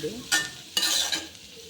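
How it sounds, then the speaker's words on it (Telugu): Cabbage is stir-fried in a pan, with two bursts of sizzling as it is tossed and scraped, close and short, with no talk. "క్యాబేజ్ ఫ్రై అన్నమాట"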